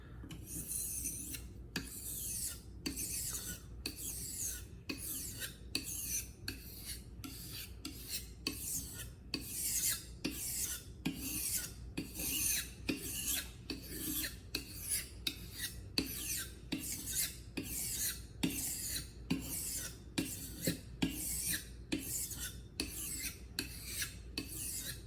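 Traditional filet knife sharpened on a stone, a close, regular rasping scrape repeating in quick even strokes back and forth with no talk.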